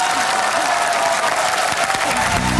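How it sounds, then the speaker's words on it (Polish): Dense, loud studio audience applause for a dancing couple on a dance competition show, continuous and unbroken, with a faint tonal musical sound creeping in at the end. "Proszę o wielkie brawa ja osobiście"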